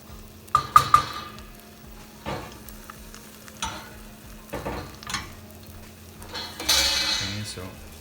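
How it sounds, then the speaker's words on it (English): Chorizo and eggs scrambling in a frying pan, with a steady sizzle under scraping stirs and a few clinks of utensil against the pan, while a person talks intermittently. "Okay, so let it scramble a bit nicely,"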